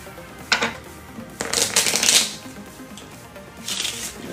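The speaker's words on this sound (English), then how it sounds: "I'll shuffle for you" A deck of playing cards being shuffled at a tabletop math card game, with crisp riffling bursts and flutters in three or four separate runs, close and fairly loud, without any talk.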